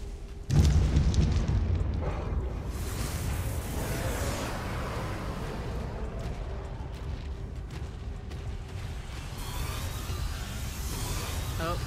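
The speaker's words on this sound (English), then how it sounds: "Missiles are coming for me." Missile explosions in the video game ARK Survival Primal Fear: a loud booming blast hits early, followed by a long rumbling roar and crackling debris that stays dense and heavy to the end.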